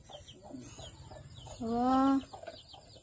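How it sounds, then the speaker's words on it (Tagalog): A chicken clucks loudly in one drawn-out call amid faint background bird chatter and farmyard noise. "Isang manok lang yan."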